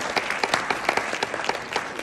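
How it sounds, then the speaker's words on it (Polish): A room of people at a business education event bursts into steady applause, a dense patter of claps that stays fairly close and even for about two seconds. "Jeszcze raz brawa dla panów za projekt, który razem stworzył."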